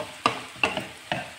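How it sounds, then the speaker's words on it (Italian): A spoon stirs sliced zucchini rounds and asparagus in a pan with a little water, three distinct scraping strokes at an uneven pace over a soft sizzle. "Mescola."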